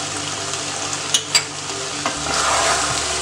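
Ghee poured into a non-stick pan of frying sweet dough, a steady close sizzle with two sharp utensil clicks near the middle, the frying hiss swelling louder toward the end, no talk.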